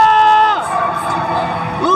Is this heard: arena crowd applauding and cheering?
yes